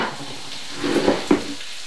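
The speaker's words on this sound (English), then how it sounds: "So first off, leeks and celery, in it goes" Leeks and celery tipped into a pot of softened vegetables for minestrone soup, giving a soft, close sizzle with a couple of brief stirring clatters, no voices.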